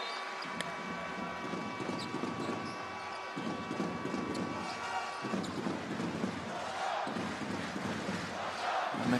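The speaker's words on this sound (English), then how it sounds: "The crowd are certainly starting to become a factor in this game." Crowd noise at an international basketball game in Amman with Jordan playing at home: a loud, continuous roar of spectators with shouts, swelling toward the end.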